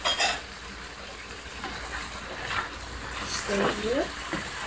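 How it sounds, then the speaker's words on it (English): Broccoli and onions being stir-fried in a pan, a soft sizzle with occasional scraping and clinks of utensil against the pan, with a voice talking over it partway through. "And you stir and you fry."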